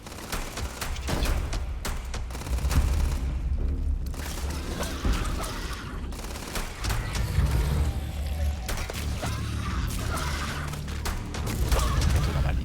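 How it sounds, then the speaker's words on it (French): Gunfire in the space game Starfield, rapid bursts and scattered shots cracking over a dense, noisy battle ambience with low booms, continuing through most of the stretch. "Je tire dessus."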